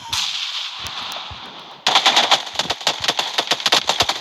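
Rapid bursts of automatic gunfire from the PUBG Mobile battle royale game, a steady hiss of fire for a couple of seconds, then a loud, close string of sharp shots in quick succession.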